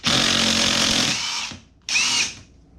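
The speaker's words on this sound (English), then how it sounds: "I'm going to use my impact gun because these spade bits are a pain in the ass." An impact gun drives a 5/8 spade bit through MDF in a loud, steady whirring grind, pausing briefly before a second short burst.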